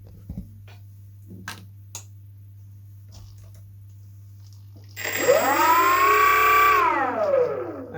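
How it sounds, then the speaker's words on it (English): Electric motor of a Kamco Kavalier model airplane, first run with the propeller fitted: a few faint clicks, then a loud whine that rises in pitch, holds for about two seconds and winds back down. "this is the first time with the prop on"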